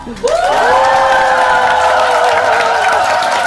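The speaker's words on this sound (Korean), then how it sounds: "큰 박수로 만나볼까요?" A crowd bursts into loud applause and cheering for a guest at a morning company event, with rapid clapping, whoops and a rising shout over the top that swells quickly and stays strong.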